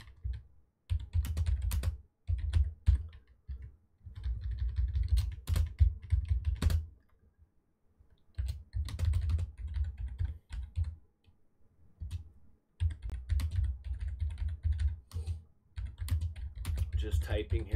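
Close, moderately quiet keyboard typing while coding C++ in Visual Studio comes in rapid bursts of clicks separated by short pauses, with soft low thumps under the keystrokes.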